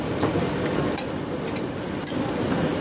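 Paratha frying in hot oil, a steady dense sizzle and crackle throughout, close and fairly loud with no voices.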